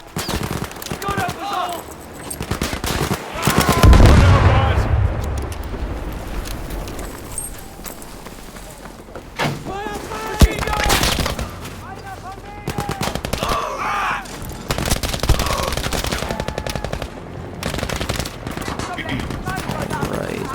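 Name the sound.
machine gun fire in the video game Battlefield 5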